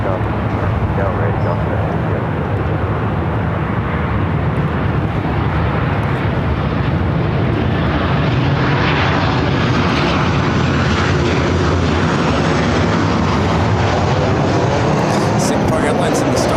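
Airliner taking off from LAX runway 24 left, a loud, continuous broadband jet engine roar that holds steady throughout, with no voices.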